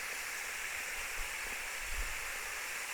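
Water pours steadily in a broad, continuous hiss while blueberry plants are watered in winter, loud and unbroken with no talk.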